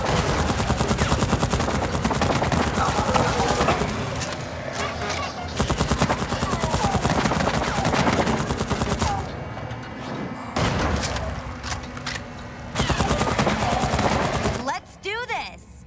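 Sustained automatic gunfire in the Zombieland: Double Tap Road Trip video game, dense loud bursts of shots broken by short pauses, with game sounds and a brief voice mixed in.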